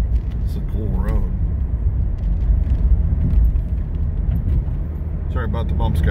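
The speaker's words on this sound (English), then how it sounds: "Sorry about the bumps, guys. We're driving the Jeep." A Jeep drives along a bumpy rural road with potholes, giving a steady loud engine and road rumble throughout with occasional knocks and rattles from the rough surface; a voice speaks briefly over the noise.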